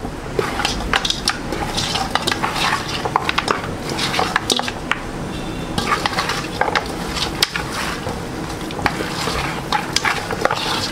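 Beef pieces kneaded by hand into masala in a bowl, giving close, wet squishing and soft clinks of utensils in an irregular rhythm, with no talking.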